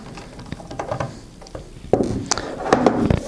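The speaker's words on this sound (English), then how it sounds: "you'll take these first two screws off" Small screws being removed from the faceplate of a U115 modem unit, heard as a quiet series of light clicks and taps that grow busier and closer toward the end, with no talking.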